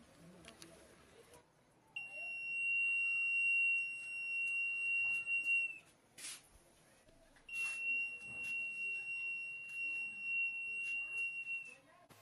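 Sensory glasses for the visually impaired give off a thin, high electronic beep held for several seconds, then again after a pause, fairly faint over rustling handling noise and a quiet background.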